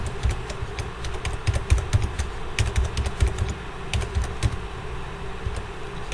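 Rapid, irregular clicking of computer keyboard keys in close, steady typing that continues throughout with no talking.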